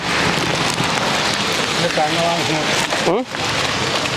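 Steady rain hisses on a surface at Tiruvannamalai during an outdoor food service for sadhus, a broad continuous wash with voices talking over it and a brief dip near the end.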